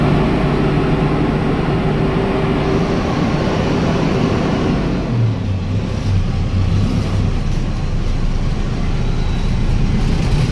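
Shyamoli Travels AC sleeper bus rolling into Baramunda bus terminal in Bhubaneswar, a steady loud engine and road rumble close by, easing slightly midway as the bus slows, with no talk.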